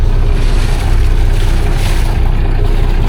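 A large fisheries-bureau boat engine drones steadily and loudly up close, mixed with the rush of wind and water, without any talking.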